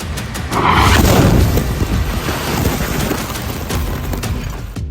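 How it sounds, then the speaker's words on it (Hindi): A loud, sustained Israeli missile blast in Nuseirat, Gaza rumbles and roars, with crackling debris and a heavy low boom that slowly fades into a noisy wash. "इजरायली मिसाइल का धमाका कितना जबरदस्त है।"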